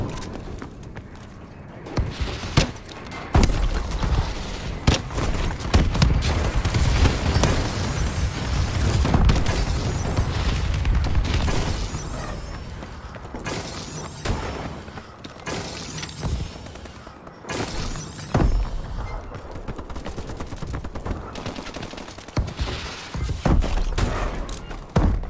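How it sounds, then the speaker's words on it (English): Bombing run explosions and gunfire in a first-person shooter video game, a dense, continuous barrage of booming blasts and rapid shots lasting throughout, loud and close with brief lulls between heavy bursts. "Friendly bombing run clearing the way."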